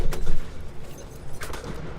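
Gunfire in the shooter game Battlefield 1 on the Brusilov Keep map, two sharp bursts of shots separated by a short lull, fairly loud and punchy against a rumbling background.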